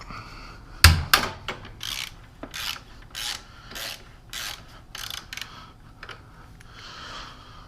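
A wrench works on a motorcycle's rear axle during rear-wheel removal, giving a close series of rhythmic ratcheting rasps and clicks after one sharp knock near the start, repeating about every half second.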